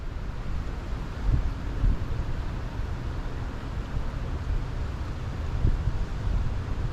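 Strong wind blows across a lake during a fishing trip, a continuous broadband rush with low buffeting gusts against the microphone and no voices.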